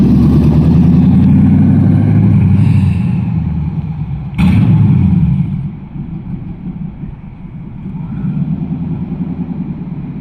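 LS-swapped Chevrolet Colorado pickup engine revving loud and close, holding a rev then abruptly cutting out near 2000 RPM before settling to a lower rumble.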